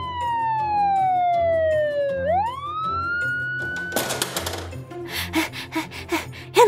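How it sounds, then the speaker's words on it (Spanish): An ambulance siren from a Peppa Pig toy scene sounds loud and close as a single long sweeping wail that drops then rises, followed by clattery toy bangs and gasps. "Ya viene la ambulancia."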